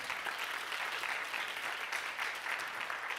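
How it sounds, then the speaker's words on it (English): A crowd applauds in a continuous, even wash of claps throughout, heard softly from a distance and without a break. "That deserves an applause."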